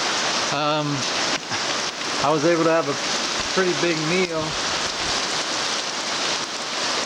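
Heavy rain pours down at a shelter by Chimney Pond on Mount Katahdin, a dense continuous roar of drumming water while someone speaks close by.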